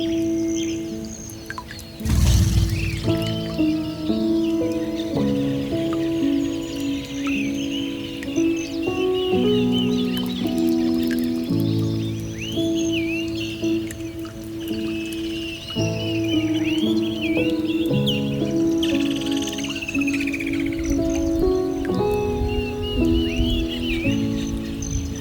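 Amazon jungle birds sing and call over a dense chorus of tonal, humming background sounds, with chirps, whistles and trills scattered across the whole stretch and a sharp knock near the start.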